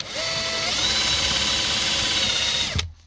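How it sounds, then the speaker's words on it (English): A power drill whirs steadily at high speed while boring a hole into wood for a DVD shelf in a bedroom, loud and close, then stops abruptly near the end. "I'll only drill 3 holes."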